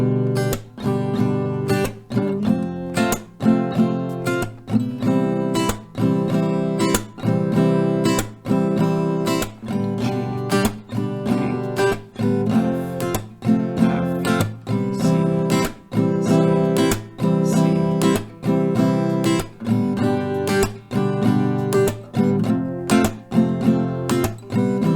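An acoustic guitar strummed in a steady rhythm, cycling through a repeating chord progression, close and consistently loud with no talking.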